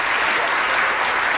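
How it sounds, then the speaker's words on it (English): Audience applause for volunteers at a science show, a dense steady wash of many hands clapping at close range for the whole moment, with no talk over it. "So give them all a round of applause, please."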